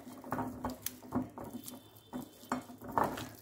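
Chicken drumsticks are tossed with honey, coconut oil and masala, giving close, wet squelching and patting in irregular bursts, with faint clinks against a bowl.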